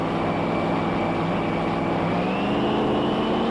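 Drag racing cars at Willowbank Raceway during the 1993 Winternationals, engines roaring in a steady loud drone of high revs with no break.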